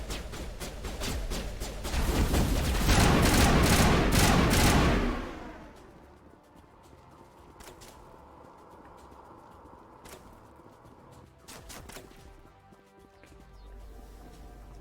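Heavy bursts of automatic rifle fire in Mass Effect Legendary Edition, loud and rapid for several seconds, then dropping away to a few faint, distant shots over a quiet background.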